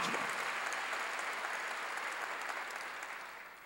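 A Korean church congregation applauds during a sermon, a steady, even patter of many hands clapping heard from a distance, gradually thinning toward the close.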